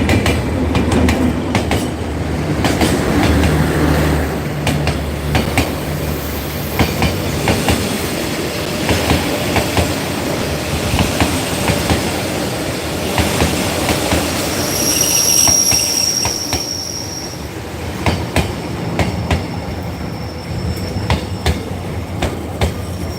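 A loud train rumbles past close by, with steady clattering wheels, sharp rhythmic clicks and a high metallic squeal partway through.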